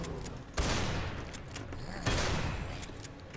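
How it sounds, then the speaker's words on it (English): Shotgun blasts in the game Doom 3 Redux, a modded shooter with a narrow-cone shotgun: two loud, booming shots about a second and a half apart, each trailing off in a rumbling decay, with no talk. "I've got more shotgun shells. The shotgun in this, it's got a very narrow firing."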